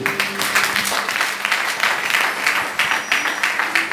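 Church congregation applauding during a sermon, a dense, steady crowd clapping with rhythmic surges that carries from start to finish.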